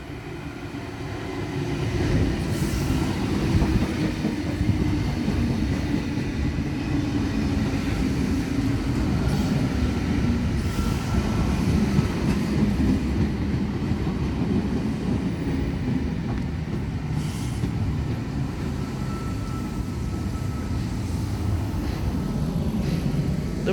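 An electric suburban train (V set) rumbles steadily and loudly as it departs the platform, a continuous low drone with faint higher whine, no voices.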